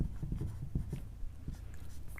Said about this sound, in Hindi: तो यहाँ पे मैं सूत्र लिखूँगा।